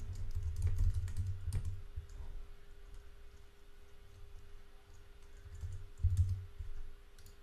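Computer keyboard typing an email address, with quick irregular clusters of close key clicks and short pauses, quiet background and no talk.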